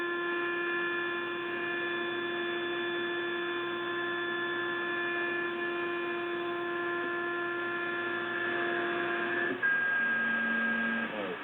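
A wide shortwave HF digital data signal used by traders comes through a radio receiver as a loud, steady multi-tone drone with constant hiss, shifting tone near the end, with no voices.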